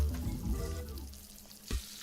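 Eggs sizzling in a frying pan in the video game Arctic Eggs, a steady close frying hiss that dips briefly and swells again near the end, with no voices.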